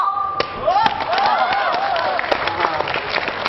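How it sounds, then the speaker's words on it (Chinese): Audience applause at a Liaoning Spring Festival Gala comedy sketch, moderate clapping spread across the hall with scattered thumps, while a voice talks over it. "掌声不是太热烈"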